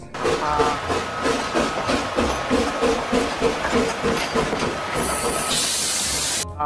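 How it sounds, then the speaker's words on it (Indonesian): A toy Thomas train chugs along with a rhythmic mechanical clatter and hissing, ending in a burst of bright steam-like hiss before stopping. "Wow, kereta api Thomas."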